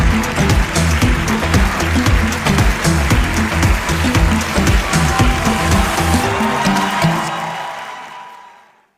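A conference audience at the Afreximbank Annual Meetings applauds in a full, steady roar of clapping that fills the hall and then fades out at the end.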